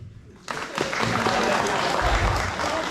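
Applause from a festival speech audience starts abruptly and continues steadily as a dense wash of clapping, fairly loud and close.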